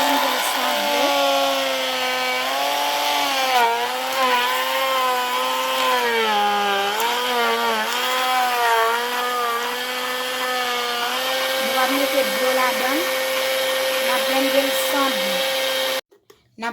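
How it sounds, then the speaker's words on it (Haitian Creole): A blender loudly whirs as it crushes ice with pineapple and lemon juice, a steady high motor whine that wavers as the load shifts, running about sixteen seconds before abruptly stopping. "OK, nous allons blender ça."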